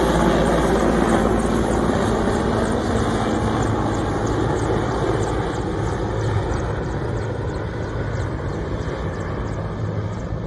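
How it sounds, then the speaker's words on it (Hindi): A helicopter spraying a locust swarm over crop fields, a loud, steady, close rotor and engine drone that runs unbroken throughout. "टिड्डी नियंत्रण टीम ने हेलीकॉप्टर से स्प्रे कर टिड्डी दल का खात्मा किया।"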